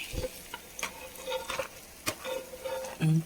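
Pieces of kera fish go into a pan lined with leaves, making a few soft thumps and scrapes over a light, crackling sizzle, close and fairly steady, with a louder knock at the end.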